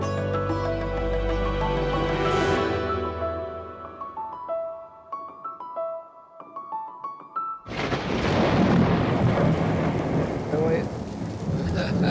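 Thunder rolls in a long, loud rumble that fades out, and then heavy rain breaks in suddenly and keeps pouring as a dense, steady hiss.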